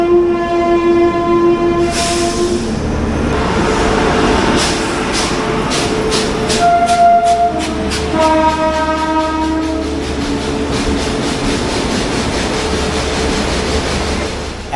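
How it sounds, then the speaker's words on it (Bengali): A train rolls through platform 1 of an Indian railway station with a loud, sustained rumble of passing wagons, and its horn blares clearly several times over the clatter. "তো এরপরে আর দুটো ট্রেন এই 1 নম্বর দিয়ে পাস হবে"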